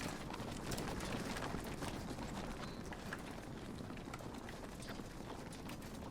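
Massed cavalry charging in the video game Total War: Shogun, with a dense, continuous thunder of galloping hooves, steady and fairly distant.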